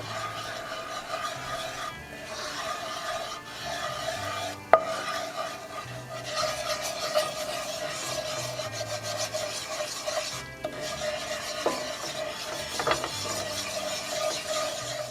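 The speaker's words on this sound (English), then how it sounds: "All you need is about 15-20 seconds stirring that flour into that oil" Flour is stirred briskly into hot oil in a pan for chipotle adobo chicken tacos: a continuous raspy scraping and rubbing of the utensil against the pan, with one sharp knock partway through.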